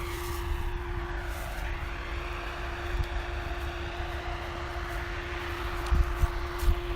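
Grain bin dryer drying corn on a farm, a steady low drone with a constant mechanical hum running throughout at a distance, with occasional soft thumps nearby.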